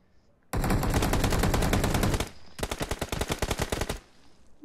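Automatic gunfire in PUBG Mobile rattles out in a loud, close burst of rapid shots lasting nearly two seconds, then a brief pause and a second, slightly choppier burst, with no talking.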